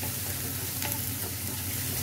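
Ginger and garlic fry in hot oil for fish chukka, a continuous close sizzle and crackle with no talking.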